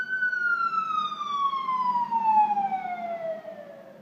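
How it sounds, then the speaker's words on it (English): A fire engine siren passes outside, sounding a single long wail whose pitch sinks steadily as it moves away, heard at moderate distance with no voices. "Let's pause for the fire engine."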